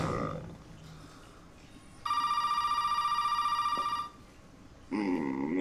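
Telephone ringing in the video game Resident Evil 7: one sustained electronic ring lasting about two seconds, clear and fairly loud over a quiet, eerie background, with brief game sounds before and after.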